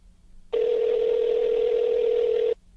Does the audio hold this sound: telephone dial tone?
yes